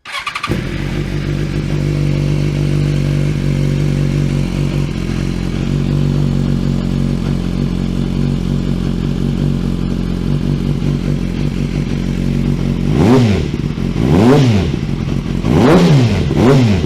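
A BMW S1000RR track bike fitted with an SC Project exhaust idles with a deep, steady burble after starting, then near the end fires off three sharp, loud revs that climb and fall in quick succession, close by.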